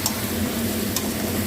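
Spices with Kashmiri chili powder and sugar sizzle softly in a pan, a faint steady frying hiss with a couple of light clicks and no voices.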